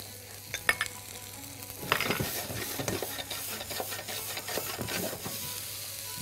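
Onion and garlic sizzling in butter in a pan, a steady frying hiss with scattered crackles and stirring scrapes, close and fairly loud, no talking.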